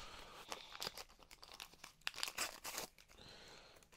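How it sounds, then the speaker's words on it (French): Panini Super Mario card booster packs, each holding eight cards, being torn open by hand, giving close crinkly foil rips and crackles in several bursts, fairly quiet with no talking. "on avait également donc 3 boosters de 8 cartes chacun, et on va se les ouvrir tout de suite."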